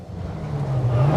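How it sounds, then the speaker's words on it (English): Rally car's drive shaft grinding and rubbing against concrete after landing on top of a bridge, a low continuous scraping rumble that builds in loudness over about a second. "the noise you can hear is the drive shaft rubbing against the concrete"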